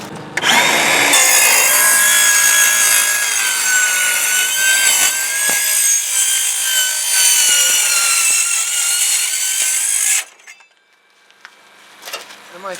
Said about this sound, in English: So we got this Milwaukee electric saw here. And apparently this thing's made specifically for metal.